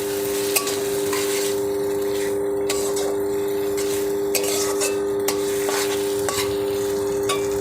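Potol dorma with fish is stirred in a hot pan, a steady oily sizzle running throughout with scraping spoon strokes and occasional sharp clinks against the metal.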